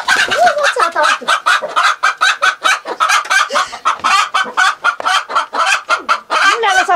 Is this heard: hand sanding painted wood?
no